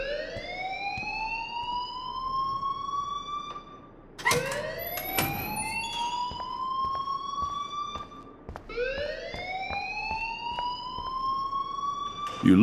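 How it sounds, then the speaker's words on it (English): A fire alarm in the Life Is Strange video game gives off a loud rising-and-falling electronic wail, sweeping upward in three long repeated cycles with brief breaks between them. "please turn off that alarm since that's your job"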